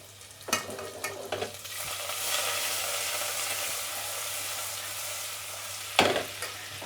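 Pav bhaji being stirred in a pan, with clinks of a spoon near the start and again at about six seconds over a steady low sizzle, heard close and alone.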